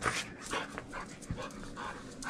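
Dog at close range panting in quick, breathy bursts, mixed with soft whimpers and small whines, steady throughout with no talking.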